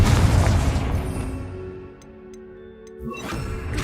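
In Hogwarts Legacy, the Confringo blasting spell lands with a heavy booming explosion up front, then the rumble fades into quiet with a few faint ticking clicks before a smaller burst near the end.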